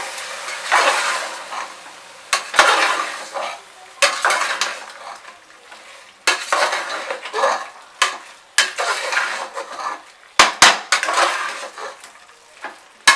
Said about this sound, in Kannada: ಈಗೆಲ್ಲ ತಿರುಗಿಸ್ಕೋಬೇಕು ಹಿಂಗೆ.